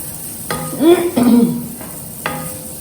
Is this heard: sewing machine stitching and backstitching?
no